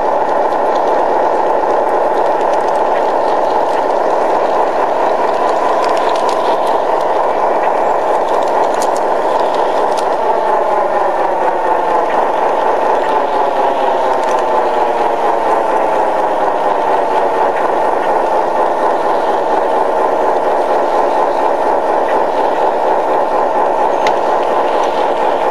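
A long model freight train of 25 cars, led by a Pacific locomotive, runs steadily around a layout with a continuous whirring motor hum and fine rattling wheels, loud and unbroken throughout.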